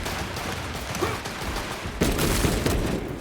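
Video game gunfire plays on an MSI Claw handheld as a dense, continuous rattle of rapid shots that grows heavier halfway through.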